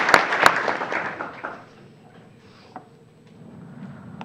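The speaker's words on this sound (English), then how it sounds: "Round of applause for them." Brief applause from a school board meeting audience honoring a senior student's family, starting with a couple of sharp claps and fading within about a second and a half into a quiet room with faint stray noises.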